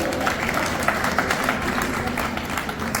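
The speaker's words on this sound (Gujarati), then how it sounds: "દિલીપભાઈ અને અજ્ઞાબેન માટે જોરદાર તાળીઓ" Sustained audience applause at an annual elders' celebration, a dense even wash of many hands clapping together at steady loudness throughout, with no pauses.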